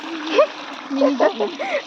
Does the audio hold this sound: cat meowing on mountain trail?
no